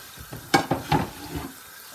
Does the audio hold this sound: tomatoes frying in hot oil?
yes